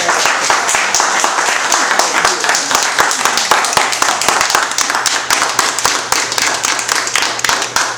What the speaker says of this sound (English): Let's first give him a round of applause.